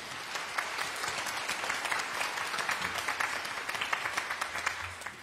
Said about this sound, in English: don't stop clapping